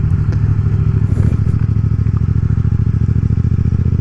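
Yamaha MT-07 motorcycle fitted with an Akrapovic exhaust, ridden in third gear through a bend, its loud, steady low engine drone and rapid exhaust pulsing running continuously up close with no talk over it.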